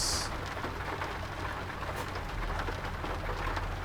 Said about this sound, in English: Love the sound of the rain falling on the roof.